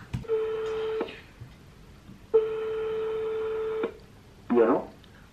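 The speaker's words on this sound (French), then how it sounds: "on va appeler Rémi tranquillement" A phone ringback tone sounds while a call is placed, two long steady tones separated by a pause, then a brief burst of voice, fairly quiet and clear.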